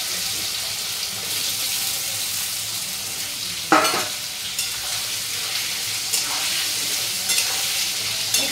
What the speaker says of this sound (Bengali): ওই আলুর টুকরোগুলো দিয়ে দেবো এবার তেলের মধ্যে